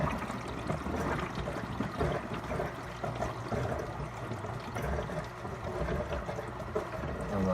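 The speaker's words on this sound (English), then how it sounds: "Water's rising in the canister, and you have to wait until you no longer hear any sounds" Water from an aquarium tank positioned above the filter flows down and fills a filter canister, a steady soft gurgling and trickling that runs continuously at low volume without talk.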